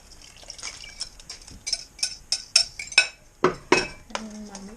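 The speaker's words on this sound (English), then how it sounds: "we quickly stir this around" A spoon stirs sea bass fish soup with beaten eggs in a pot, giving a run of sharp metallic clinks and scrapes in an uneven rhythm, close and fairly loud, ending with a short ringing tone.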